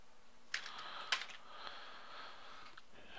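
Keystrokes on a computer keyboard, a few sharp clicks clustered early, then soft scattered taps at low level in a quiet room.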